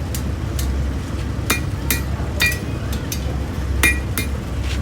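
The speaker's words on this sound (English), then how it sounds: "I love that anvil. I'm using my hardy tool." Metal rings sharply on an anvil as a hardy tool is struck, about a dozen separate clinking blows at an uneven, unhurried pace over a low outdoor rumble at a steam engine show and flea market.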